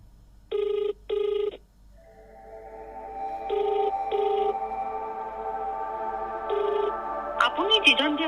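A phone rings unanswered, with repeated electronic ring bursts and pauses between them, near and clear, and a drawn-out tonal sound building up beneath it toward the end.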